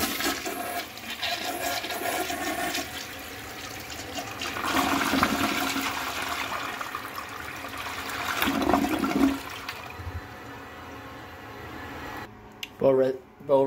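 A 1998 American Standard Colony toilet flushing during a bowl wash test: a loud rushing swirl of water that surges twice, then fades into refill trickling and a few clunks. A voice is heard faintly.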